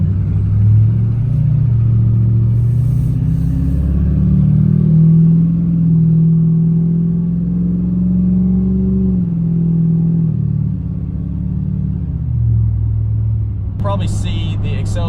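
Duramax diesel pickup truck accelerating, a deep engine rumble climbing and then easing off over several seconds, heard close from inside, ending in a brief electronic beeping.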